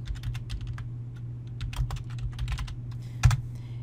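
Rapid typing on a computer keyboard during a search for a script font: a steady run of crisp, close key clicks with irregular rhythm over a low constant hum, no voices.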